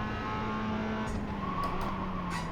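A race car engine in iRacing drones under throttle, a steady, fairly quiet tone with a slowly shifting pitch and brief tyre noise.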